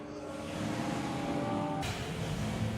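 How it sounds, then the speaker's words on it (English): A McLaren supercar laps the Silverstone circuit during a track event, its engine a loud, steady drone with a tonal whine that shifts as it passes close by, with no talking. "as you hear the McLaren go past, they're still pretty loud"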